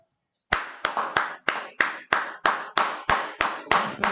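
Clapping to welcome a speaker at an indoor gathering: after a brief silence, loud, close, steady rhythmic claps ring out with short reverberant tails, about three per second.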